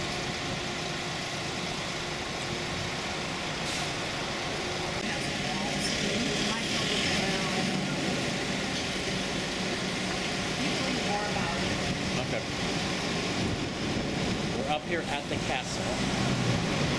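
Tour buses and traffic idle and move along Palota út by the castle in Budapest, a continuous low engine rumble with passing vehicle swells, while a person talks intermittently over the din.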